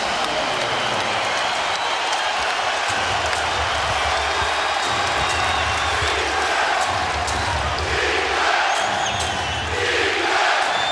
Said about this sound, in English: A chant of defense by this capacity crowd at Staples